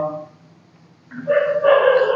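A dog barks a couple of times, a short loud burst of yelping barks arriving nearby after a brief quiet pause during a maths lesson.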